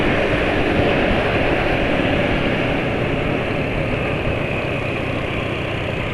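A motorcycle engine running on BM1 oil drones loud and steady, a coarse, rough idle-like rumble close to the listener with no break.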